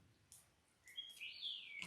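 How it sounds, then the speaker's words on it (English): Faint, bright chirps and squawks from pet parrots in short bursts, with a rising whistle toward the end, heard at a distance over quiet room tone. "we have parrots and they're out there."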